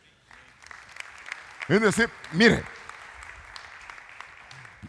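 Applause from a church congregation during a ministry service, a steady clapping wash that runs under a preacher's loud Spanish speech and continues after he pauses.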